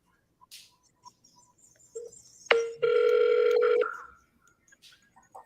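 A telephone rings back in an office setting: a short electronic tone, then a sustained, fairly loud ringing burst lasting about a second, with faint background clicks and movement around it.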